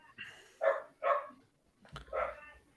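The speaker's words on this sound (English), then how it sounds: "someone's dog's going off" Somewhere nearby a dog barks four times in an uneven rhythm, moderately loud with faint background noise between the barks.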